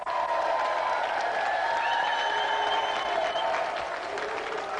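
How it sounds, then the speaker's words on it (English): A television studio audience at an arm-wrestling game show claps in sustained, even applause, loud and dense, with a faint voice and a little cheering mixed in. "Round of applause for Jamie."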